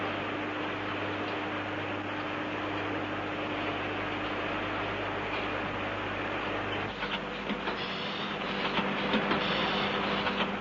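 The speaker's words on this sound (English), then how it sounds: "a machine has been developed which not only automatically cuts and shapes the heaters" Factory machinery automatically cutting and shaping vacuum tube heaters runs as a steady, dense mechanical clatter and hiss with a constant hum, growing busier and more rattly in the last few seconds.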